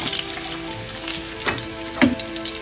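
Eggs frying in oil until browned for a Bengali cauliflower and egg dish: a steady, close crackling sizzle with two sharper spattering bursts partway through, no voices.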